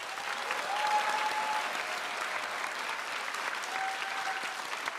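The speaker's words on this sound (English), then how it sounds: "Let's give 5Y a round of applause." An audience claps for a school class at a grade 5 promotion ceremony, a sustained round of applause with even intensity throughout.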